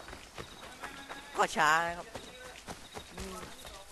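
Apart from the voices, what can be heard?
horse galloping in video game Assassin's Creed III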